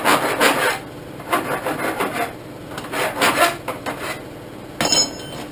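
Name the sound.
metal file deburring cut steel tubing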